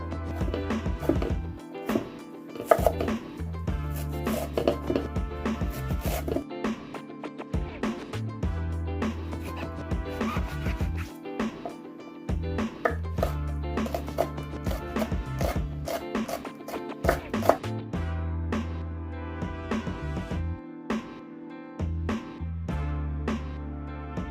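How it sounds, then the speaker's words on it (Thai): Steady knife chopping of chili and fresh garlic stalks on a board, rapid irregular taps running throughout at close range, with brief pauses between bursts. "หลังจากที่เราหั่นพริกแล้วก็ต้นกระเทียมสดเรียบร้อยนะคะ"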